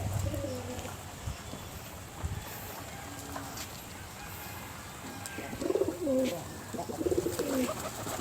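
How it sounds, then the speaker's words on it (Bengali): A flock of pigeons cooing softly nearby while feeding on the ground, with several low, rounded coos rising toward the end amid faint outdoor background noise. "এদের এই বাকবাকুম ডাকটাই কিন্তু বেশি ভালো লাগে"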